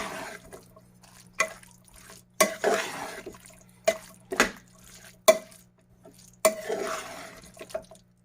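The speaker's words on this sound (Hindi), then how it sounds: "और उसके बाद हम इसको अच्छे से मिक्स करेंगे इसमें।" Yogurt being stirred into cooked white kidney beans with a spoon in a pot: a series of separate wet clinks and scrapes against the vessel, spaced irregularly with quiet gaps between.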